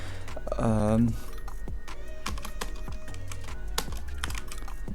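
Rapid clicking keystrokes on a computer keyboard, close and steady over several seconds, with a brief voiced hum early on while typing a name into an editing program.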